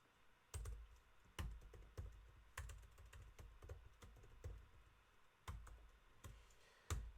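Keyboard typing while writing code for an Advent of Code 2020 puzzle: sharp, fairly loud key clicks and clacks come in irregular bursts with short pauses between them, alone with no voices.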